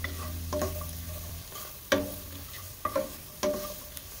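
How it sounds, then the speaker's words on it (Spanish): Green chili or sweet pepper frying in hot oil, with a steady close sizzle under several sharp stirring clatters of a utensil against the pan. "También lo vamos a freír durante un minuto."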